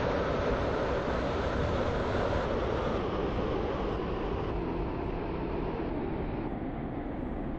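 A Class 802 train arriving at Stepford Central in a video game, heard as a steady, loud broadband rumble and rolling wheel noise that eases slightly toward the end, with no voices.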